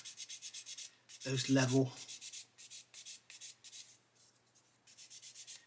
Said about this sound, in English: just going to sand that out